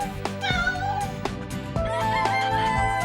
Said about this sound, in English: and the cock cock-a-doodled